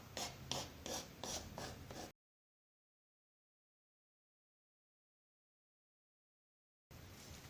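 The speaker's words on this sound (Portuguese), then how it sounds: "a lixa de unhas do lado mais fininho ir passando para tirar o excesso bem de leve" Fine side of a nail file lightly sanding excess paint off the edge of an MDF invitation box, a soft rhythmic rasping in quick strokes, close and quiet, heard briefly before a long silence and again at the end.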